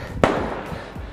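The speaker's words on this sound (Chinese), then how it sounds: "所以就会听到在这边练习开枪的声音" A single loud gunshot from shooting practice at a nearby military base near Mount Fuji, a sharp crack with a short rumbling tail, heard outdoors amid steady background noise.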